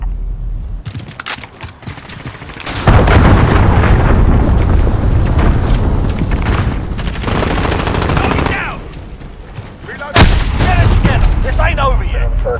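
Allied cruise missile strikes in Call of Duty Modern Warfare land as loud booming blasts with rumbling tails, mixed with bursts of gunfire and a sharp crack near the end.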